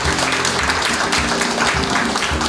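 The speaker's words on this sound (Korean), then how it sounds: "구경옥 여사님 박수 좀 많이 좀 부탁드리겠습니다" Audience applause at a literary festival award event, greeting the introduction of Mrs. Gu Gyeong-ok, a steady dense wash of clapping from a hall crowd with a low background hum.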